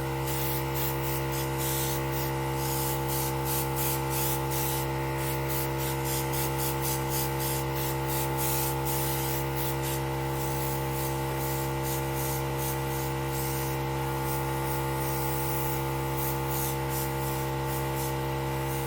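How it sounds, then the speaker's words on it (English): Airbrush setting spray misting onto a face, a steady close hiss over a constant low mechanical hum from the airbrush compressor, with short breaks between bursts. "I like to go in with either 1 or 2 sprays of the setting spray"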